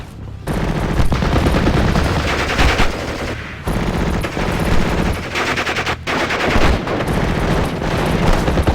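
Sustained World War II battle gunfire in the video game Steel Division: Normandy 44: rapid machine-gun bursts and rifle shots crackle almost nonstop, loud and dense, with brief gaps between volleys.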